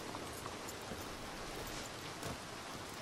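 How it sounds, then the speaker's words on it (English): Steady rain falling in a city street in the video game Red Dead Redemption 2, a dense, even hiss of drops on surfaces, soft and continuous with no voices. "Beautiful rain, by the way. I love this sound."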